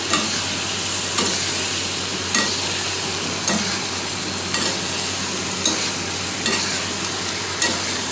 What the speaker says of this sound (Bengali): এই যে আলু দিয়ে দিলাম, আলু দিয়ে একটু লাড়াচাড়া দিতে হবে।